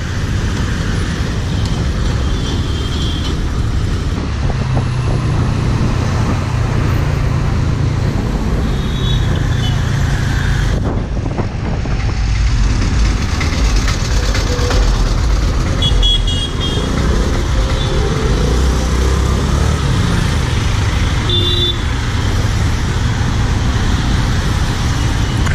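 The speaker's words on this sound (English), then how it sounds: "Luckily, there is no extreme traffic today. There is traffic, but it's pretty manageable." Steady road traffic rumbles close around a rider on a Honda NAVi scooter, with passing cars and motorcycles, wind noise and occasional faint horn toots throughout.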